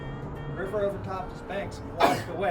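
A single sharp sneeze bursts out close by, loud and brief, in the middle of a tour guide's talk in a New Orleans cemetery, with speech continuing before and after.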